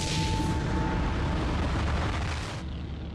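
A huge cosmic explosion representing the Big Bang, rendered as a loud, continuous deep roaring rumble with rushing noise that holds steady for most of the stretch, then thins slightly near the end.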